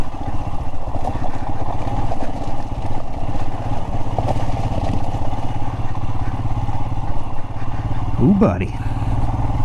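Royal Enfield Himalayan motorcycle engine drones steadily and loud while riding over rough basalt rock in a bouldering pebble field, with a brief voice exclaiming near the end.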